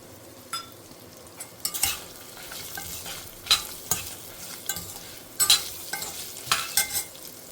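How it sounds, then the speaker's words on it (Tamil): Grated coconut and spices are sautéed in a pan, a soft steady sizzle broken by repeated scraping stirs of a spoon against the metal, close and moderately quiet with no talking. "தேங்காயுமே கொஞ்சம் போட்டு நல்லா வதக்கின்றலாம்."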